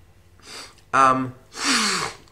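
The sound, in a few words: sniffing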